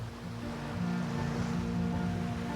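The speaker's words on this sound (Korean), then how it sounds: "너무 오랜만에 들어보는 파도 소리예요" Ocean waves washing onto the beach of an island shore, a steady broad wash of surf with a low constant hum running underneath, fairly loud and continuous throughout with no voices.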